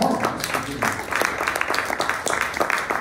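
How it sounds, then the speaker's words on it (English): An audience claps together at a poetry reading, a steady wash of applause that sounds close and fairly loud throughout, with no talk over it. "if you want to join me in applauding all of us"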